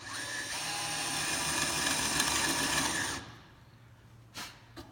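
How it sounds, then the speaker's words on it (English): A drill bores down into wood while the point is centred for a hole and peg joint, a steady whirring grind lasting about three seconds before it stops, followed by quiet with a couple of small knocks. "I'm going to put my point right on that center part, and I'm going to drill down."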